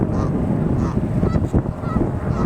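A bunch of ducks honk repeatedly at close range, several loud overlapping calls in quick succession over a steady outdoor background.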